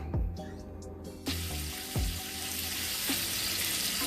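Water rushing and bubbling in a pot for a seafood boil with a steady hiss, broken by a few clanks and taps of metal, no voices.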